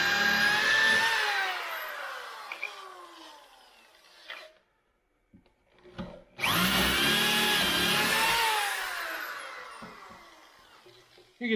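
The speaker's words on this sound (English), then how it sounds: "this will obviously cover the hole we're making with the drill" A power drill bores holes in wood for homemade farmhouse-style bypass closet doors, two loud sustained runs with a falling whine as the bit cuts through, separated by a brief pause with faint handling knocks.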